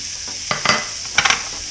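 Onion and celery cooking in butter in a pan, a steady bright sizzle with a few short scraping stirs of a utensil, close and clear with no talking.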